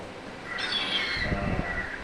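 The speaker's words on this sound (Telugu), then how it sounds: "ఆ పక్షులు ఎలా అరుస్తాయో ఒక్కొక్క పక్షి ఒక్కొక్క రీతిగా మరి అరుస్తూ ఉన్నాయి." Several birds call at once, each with a different voice: a high whistling call over a steady background hiss and a few lower, pulsing calls near the end.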